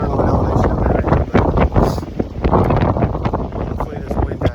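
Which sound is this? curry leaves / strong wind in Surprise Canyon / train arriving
strong wind in Surprise Canyon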